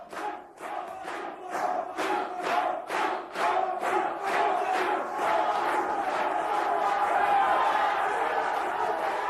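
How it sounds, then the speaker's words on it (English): Large crowd at a 1988 World Strongman competition roars and chants in rhythmic bursts, then swells into sustained loud cheering, close and continuous for the whole stretch. "Mark getting the crowd going again. His Dutch supporters are still with him."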